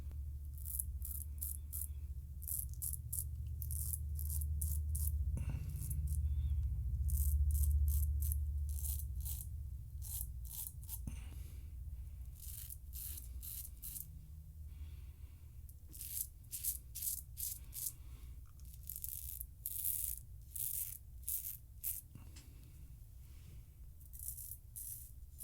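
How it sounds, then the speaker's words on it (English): A razor cutting in a goatee makes short, crisp scraping strokes in quick bursts close to the face over a low background hum, with no talk. "I'm going to cut in my goatee."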